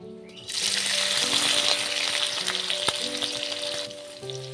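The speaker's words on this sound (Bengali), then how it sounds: "তেল গরম হয়ে গেছে এবার পনির কটা ভেজে নেব" Paneer frying in hot mustard oil in a kadai: a loud, steady sizzle swells up after a brief quiet start and holds throughout, with faint low hums beneath.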